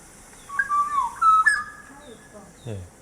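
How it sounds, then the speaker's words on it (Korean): A black-naped oriole's breeding-season call played from a recording: a few clear, fluting whistled phrases that rise and fall, followed by a short descending burst near the end, moderately loud against a quiet background. "꾀꼬리예요, 꾀꼬리. 꾀꼬리죠. 꾀꼬리."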